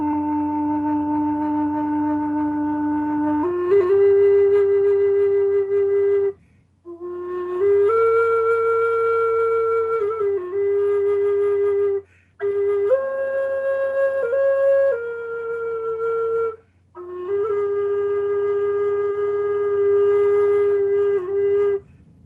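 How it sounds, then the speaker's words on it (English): A cedar Native American style flute in low D plays slow, sustained breathy tones in a simple melody, with short pauses between phrases. It is close and clear, and no one speaks. "cedar flute, sometimes called Native American style, from the Plains Indians primarily."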